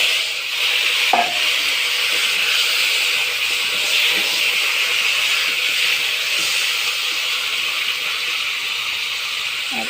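A katla fish head, rubbed with salt and turmeric, sizzles in hot oil in a kadai, giving a steady, close frying hiss with a brief stirring clatter.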